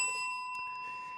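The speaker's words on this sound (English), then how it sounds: "You get a bell" A bright bell rings once, with a clear sustained tone that slowly decays over about a second and a faint click partway through.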